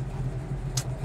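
A 1972 Chevrolet Chevelle SS engine idles with a steady low, even rumble and a regular pulsing throb, close and alone, with one brief hiss partway through.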